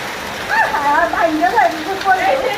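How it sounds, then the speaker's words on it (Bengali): Heavy rain falls steadily during a hailstorm in Dhaka, a constant wash of noise beneath a voice speaking close by. "অনেক শিল পড়ছে"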